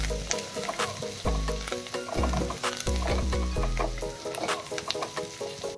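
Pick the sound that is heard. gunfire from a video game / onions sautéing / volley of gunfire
onions sautéing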